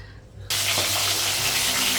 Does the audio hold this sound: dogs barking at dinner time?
no